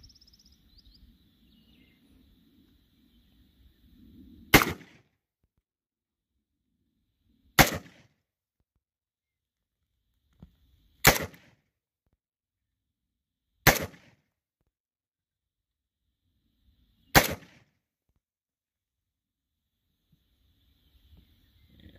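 Five sharp, loud rifle shots from a WASR 10/63 AK-47 fired at clay targets outdoors, spaced a few seconds apart and each ringing briefly against near silence.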